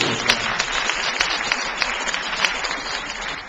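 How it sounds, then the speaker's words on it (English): Audience applause at a Merced Community College convocation, a fairly loud, dense patter of clapping running throughout, with a few sharper claps standing out. "You can clap."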